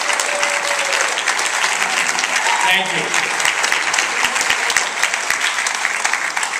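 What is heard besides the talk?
audience applause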